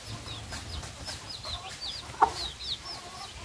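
Hens clucking on a small farm, a few short clucks and chirps from chickens nearby over a low rustling background, with one sharper call standing out.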